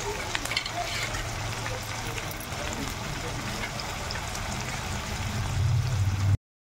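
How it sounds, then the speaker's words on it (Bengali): Chilli, coriander and cumin pastes with tomato paste and turmeric being stirred in a hot pan, a steady dense sizzle with scraping through the whole stretch, loud and close, no talk over it. "মশলাটা দিয়ে এখানে আমি নেড়ে নিলাম হালকা করে।"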